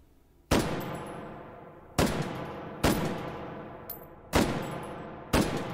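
Galil AR rifle fired in the VR game H3VR: five loud, sharp gunshots at irregular intervals, each with a ringing decay and faint mechanical clinks between shots, no talking.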